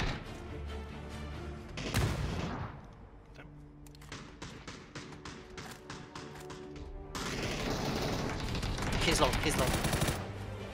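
Gunfire in a shooting video game: loud bursts of rapid shots and single cracks, close and sharp, with a quieter stretch between bursts and players' voices talking over the action.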